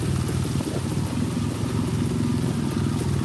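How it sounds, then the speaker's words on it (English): A 1986 EZGO golf cart engine idling with the brake on: a steady, loud small-engine putter with a faint rattly clatter throughout, no voices. "But if I put on the brake, it idles perfectly fine."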